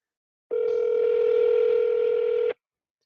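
A single steady ringback tone of about two seconds sounds from a telephone calling out, loud and clear, with silence before and after and no voices.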